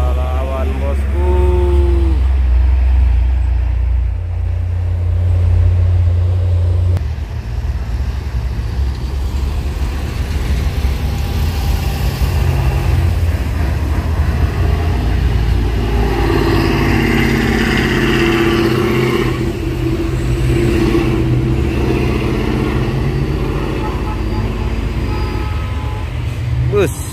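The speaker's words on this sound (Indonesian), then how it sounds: "Ini banyak truk yang beriringan menanjak ya bosku." Several trucks climbing a hill together in a convoy, a loud continuous engine rumble and straining drone that holds steady and close, with a voice talking over it at times.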